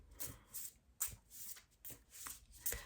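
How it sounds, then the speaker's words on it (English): Quiet, papery riffling of tarot cards being shuffled in several short bursts, with soft slaps between them and no voices. "I like to just shuffle until there's a card coming out for me."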